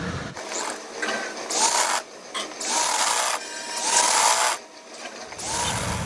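Sewing machine stitching a seam on a circular palazzo, running in several bursts of a second or so each, with short pauses between runs; a steady, buzzing mechanical rattle close up with no talking.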